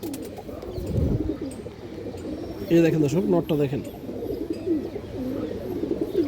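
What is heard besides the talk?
pigeons cooing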